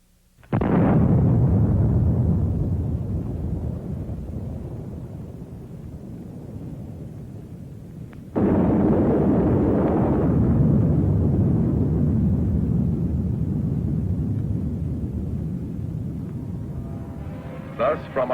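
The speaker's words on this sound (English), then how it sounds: "The Mark IX artillery-fired atomic projectile is for use in the Army's 280-millimeter gun." A Mark IX atomic artillery projectile fired from the Army's 280-millimeter gun explodes in two sudden, loud blasts, each followed by a long, heavy rumble that slowly fades.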